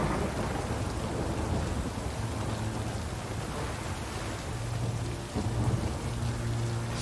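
Steady rain pours in The Witcher 3 with a low rumble of thunder beneath it, a continuous wash of drops that stays even and moderately quiet throughout, with no voices.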